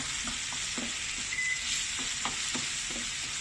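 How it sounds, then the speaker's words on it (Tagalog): Tomato paste frying in a pan while being stirred, a steady hiss of sizzling with soft scraping strokes every half second or so, close and continuous, no voices. "magdagdag tayo ang tomato paste halu-haluin lang natin hanggang lumabas yung aroma ng tomato paste"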